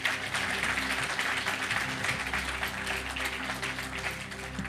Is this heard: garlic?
no